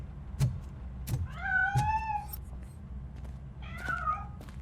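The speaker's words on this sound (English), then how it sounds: "That cat must be hiding inside." A cat meows in the video game RoboCop Rogue City while hiding inside a piano, giving two clear, drawn-out meows over a low background rumble with a few soft knocks.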